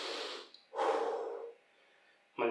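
Two long, loud breaths in and out while a body holds a still isometric leg-toning position, each lasting under a second with a quiet gap between, and a third breath starting at the end; no talking.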